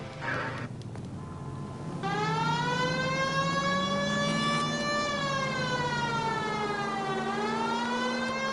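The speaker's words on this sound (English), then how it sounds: "we'll activate the siren, and we'll do some official police business" Police car siren from the L.A. Noire video game, a loud wailing tone that rises and falls in long sweeping cycles, starting after a short stretch of engine and street noise and continuing without a break.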